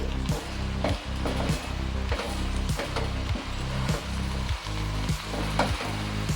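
Amaranth leaves (totakura) frying in a pan while being stirred, a steady close sizzle broken by regular rhythmic scraping strokes about every half second.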